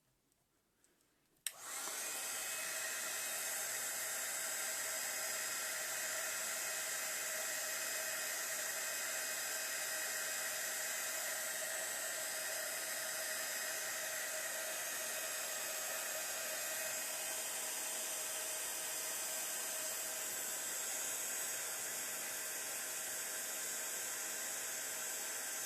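A torch or heater under a metal cup melting powder, heard as a loud, steady blowing hiss that starts abruptly and runs unchanged for over twenty seconds.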